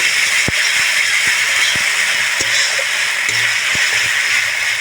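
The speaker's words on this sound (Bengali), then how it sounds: "একটু ভালো করে কষিয়ে নেব" Peas with ginger, cumin and green chilli paste sauté in a pan, a loud, continuous close-up frying hiss broken by regular spatula taps and scrapes against the pan, without speech.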